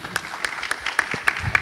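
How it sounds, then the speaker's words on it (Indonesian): Scattered applause from a small audience at an Indonesian climate finance panel session, distinct claps standing out in a loose, uneven rhythm at close range. "Boleh minta tepuk tangannya?"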